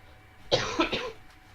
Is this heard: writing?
no